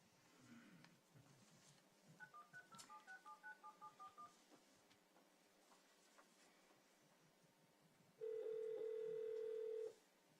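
Cell phone keypad dialing during a board meeting call: a quick run of about a dozen short, faint beeps, then a brief quiet gap and one longer steady tone near the end, with no talk.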